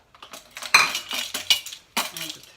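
Potatoes dropped into a cooking pot while making a plant-based Hungarian goulash, giving a run of close, loud clattering knocks and clinks against the pot with no talk.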